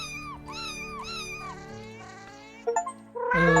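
Several cat meows in the game 100 Cats 2, bright and close, ending with a short burst of louder noise.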